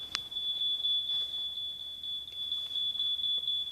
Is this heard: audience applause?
no